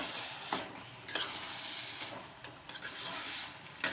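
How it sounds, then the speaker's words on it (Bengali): Taro leaves and chickpeas being sautéed in a pan, with a steady sizzle and repeated scraping stirs of a spatula at close range, no voices. "কিছুক্ষণের জন্য আমি ভালো করে এটা কষিয়ে নেব"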